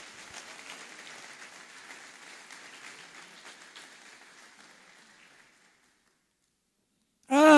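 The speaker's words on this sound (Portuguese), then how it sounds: "Dê uma salva de palmas a Ele." A church congregation applauds during a sermon, soft and fairly distant, the clapping gradually fading out into near silence before a loud voice suddenly breaks in at the very end.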